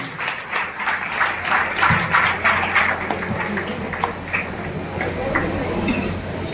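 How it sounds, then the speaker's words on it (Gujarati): An audience claps for a student being honoured by an education and charitable trust, a scattered, moderately loud patter of hands with some talk mixed in. "આપણે તાળીઓના હાથથી ખરેખર વધાવવું જોઈએ."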